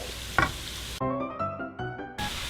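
Seasoned ground beef for a shepherd's pie frying in a pan, with a steady sizzle that is partly covered by background music midway through the short stretch.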